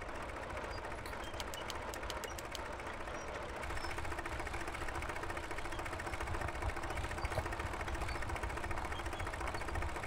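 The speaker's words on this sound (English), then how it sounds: "I hope you guys enjoy me using this old machinery like this from time to time in the old crawler tractors." An old crawler tractor engine in Farming Simulator 2017 runs at a steady idle, a continuous low rumble with a faint mechanical knock, holding at even loudness throughout with no talking.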